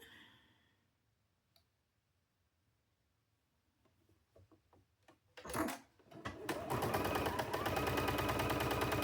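Faint clicks and handling noises come first, then a sewing machine starts up and runs steadily, sewing fabric cow pieces for a farm quilt. It is loud and close, with no talk.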